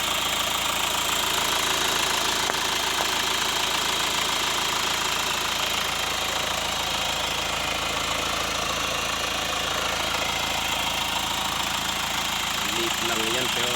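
Ford Everest 2.0 Sport 4x4 engine running at idle, a steady mid-pitched hum with a constant even drone, close and loud throughout.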